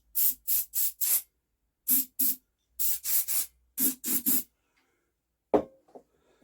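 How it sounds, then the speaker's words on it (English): Brake cleaner sprays down the spark plug hole of an old Briggs and Stratton generator in a series of short, sharp hissing bursts, mostly in quick groups of two to four, close and alone with no talk. "We'll just put a little bit of brake clean directly down the plug hole."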